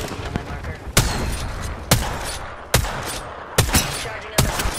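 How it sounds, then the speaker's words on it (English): Gunfire in a shooter video game, a series of five or six loud, sharp shots spaced roughly a second apart over a rumbling, noisy background. "I'm under fire."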